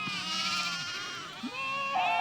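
A flock of goats and sheep penned on a farm field gives a few drawn-out, quavering bleats, one close and others farther off, with no talk.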